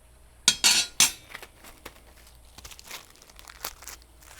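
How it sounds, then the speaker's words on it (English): A stainless steel charcoal riser set down into the bottom of a yakitori grill, giving a few sharp metallic clanks and scrapes up close, then lighter scattered clinks and rattles. "So that riser will go in the bottom of your grill, and that will sit on top just like that"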